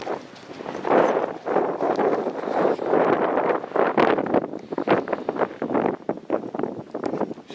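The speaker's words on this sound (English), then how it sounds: "Hopefully the wind's not blowing too hard." Wind gusting outdoors beside a river, a loud, steady rumbling buffet across the microphone with rustling texture, rising and falling in strength throughout.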